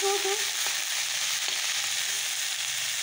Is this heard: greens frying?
yes